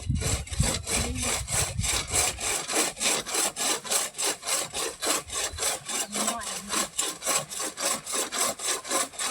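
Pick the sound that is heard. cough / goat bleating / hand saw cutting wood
hand saw cutting wood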